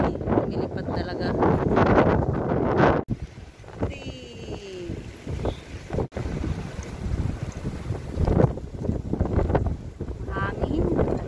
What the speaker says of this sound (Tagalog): Hangin talaga. Grabe ang hangin.